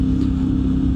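CFMOTO Ibex 450 motorcycle accelerating in 4th gear on a road, a steady loud engine drone with a constant low hum and wind rush, close and continuous for about a second.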